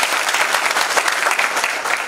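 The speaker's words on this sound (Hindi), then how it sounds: "जोरदार ताली बजा दीजिए।" Loud, dense applause from a seminar audience, steady and continuous throughout with no break and no voices over it.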